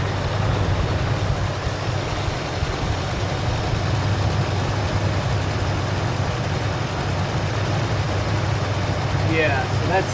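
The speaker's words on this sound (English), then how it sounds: "Just wanted to show how this engine's idling. It's idling very well. It's at about 650" The engine of a 1988 Toyota Land Cruiser idles smoothly at about 650 rpm, giving a steady low rumble close to the microphone that holds an even level throughout, with someone talking over it.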